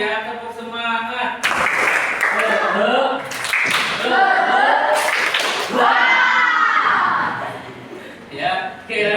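Children in a classroom clapping together in a rhythmic spirit clap, bursts of claps mixed with chanting voices and chatter, close and loud.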